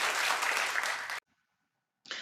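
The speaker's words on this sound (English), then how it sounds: "Clap if you know her." A studio audience on a talk show bursts into brisk clapping that cuts off abruptly, followed by a brief silence and then another sudden burst.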